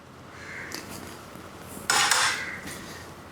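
A spoon stirs a homemade herbal decoction (kashayam) in a metal vessel, giving a few soft scrapes and a short, brighter burst of metallic clinking and swishing near the middle, all fairly quiet and close.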